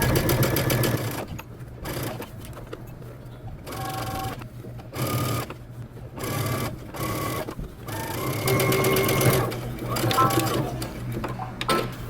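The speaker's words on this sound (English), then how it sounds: "we're going to be stitching using 5/8 of an inch seam allowance" A sewing machine stitches a sleeve underarm seam at a 5/8-inch allowance, running close in short stop-start bursts with pauses between, while a person talks at times.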